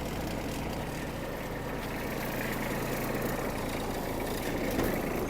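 Hitachi CX-150 Japanese mini tractor engine running steadily at idle, a continuous even low rumble with no breaks, close and moderately loud.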